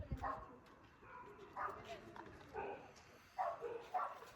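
Dogs barking at night, a few muffled yips and barks in short bursts, fairly distant, with people's voices and background chatter running underneath.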